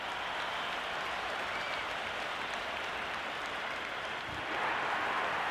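Crowd applause from the stands in the cricket video game Cricket 26, a steady wash of clapping and cheering noise that swells slightly toward the end, moderately distant and continuous.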